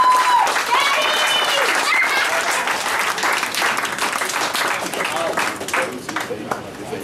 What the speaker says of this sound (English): I think this young man deserves a applause for what he's done here.